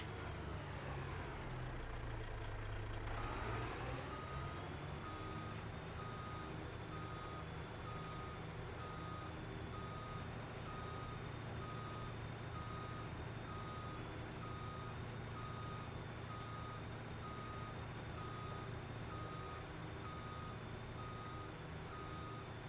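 A truck's reversing alarm beeps steadily at an even pulse in Farming Simulator 25, repeating over a low idling engine rumble and continuing alone throughout.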